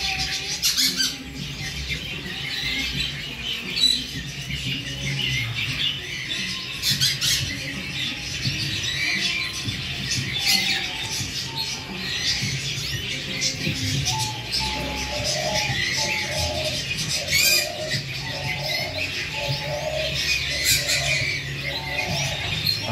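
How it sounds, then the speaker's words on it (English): Many canaries in an aviary chirp, tweet and squawk together in a dense, busy chorus with bright trills rising over a bustling background. "a lot of different birds. There are different types of canaries."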